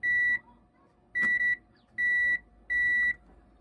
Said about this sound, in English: Buzzer sound lang.